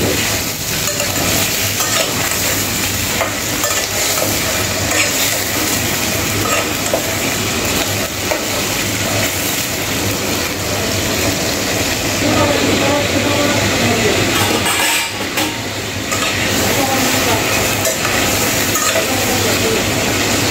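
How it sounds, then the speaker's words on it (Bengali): Chicken pieces seasoned with salt and turmeric fry and get stirred in a pan, a steady loud sizzle with scraping stir strokes running throughout, with faint talk and a brief dip partway. "এখন ভালো করে নাড়াচাড়া করে মাংসগুলো ভেজে নেব।"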